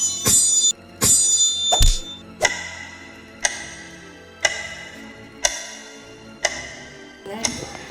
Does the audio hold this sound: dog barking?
no